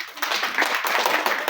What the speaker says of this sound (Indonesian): Nah, terima kasih, tepuk tangan dong.